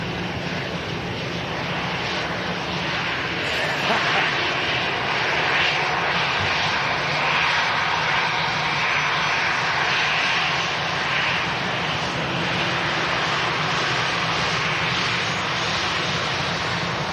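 Aircraft departing an airport during live plane spotting, a steady, loud engine roar that holds without a break for the whole stretch, with no talking over it.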